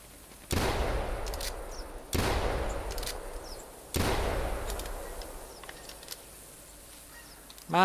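Three loud shotgun blasts ring out during a bird hunt in a field, evenly spaced about two seconds apart, each followed by a long fading echo, with faint goose calls in the background.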